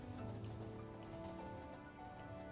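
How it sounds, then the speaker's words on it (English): Steady rain falling as a continuous soft hiss, with no voices heard. "It's just, it's starting to rain. Like real life rain."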